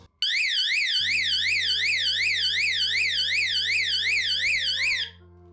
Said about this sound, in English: We're gonna go ahead and use the panic button